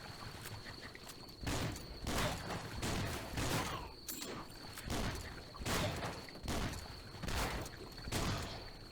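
Shotgun blasts from the mobile game Swamp Attack fire in a steady series of about eight sharp bursts, evenly spaced and fairly loud, with no talking.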